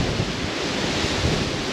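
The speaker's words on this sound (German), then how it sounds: "der Wind meldet sich in voller Stärke zurück" Strong wind blowing across the Rheinsteig hiking trail between Koblenz and Braubach, roaring and buffeting the microphone in a continuous rush with no voices.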